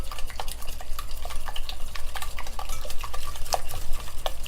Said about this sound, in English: Now I'm going to be adding in my plain yogurt. Just whisk that in there.